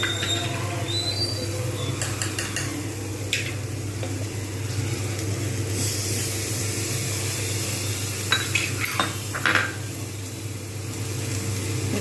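Bhindi being stirred in a pan with a ground yogurt, mustard and green chilli paste, a steady low sizzle under occasional scraping and clinking strokes of a spoon, fairly close and continuous.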